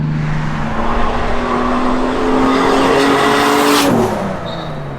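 A Volvo 940 fitted with a BMW 2.5 turbo engine accelerates hard, its engine note climbing steadily and loudly before the throttle lifts near the end, with no talking over it.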